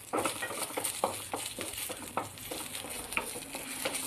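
Onions fried lightly in a pan, a continuous soft sizzle with repeated scraping stirs in an uneven rhythm, close and fairly quiet, with no voices.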